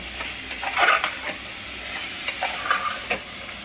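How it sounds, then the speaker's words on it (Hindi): A spoon scrapes and stirs chickpeas through sizzling masala in a hot pan, with steady crackling frying and occasional louder scraping strokes. "इसमें मैं अब छोले डाल दूंगी। छोले डाल दूंगी और इसे मैं मिला दूंगी।"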